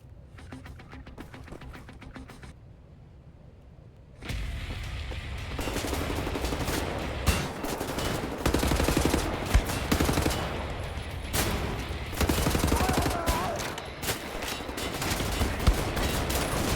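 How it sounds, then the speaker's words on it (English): Sustained automatic gunfire in Wolfenstein The New Order: a quiet stretch, then a sudden loud, continuous barrage of rapid shots and impacts that keeps going, dense and close, with no talking. "Lay down suppressive fire."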